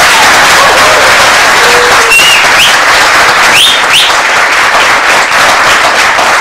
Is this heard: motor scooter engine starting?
no